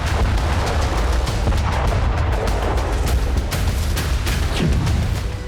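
Explosions from drone and missile strikes on Crimea during the Russia–Ukraine war, a dense run of sharp booms and blasts in quick succession, loud and close with rumbling low-end between the cracks.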